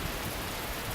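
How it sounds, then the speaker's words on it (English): Heavy rain in a nighttime jungle scene from the visual novel The Fruit of Grisaia: a steady, dense hiss of downpour, constant and fairly loud, with no other sound. "It's raining pretty hard."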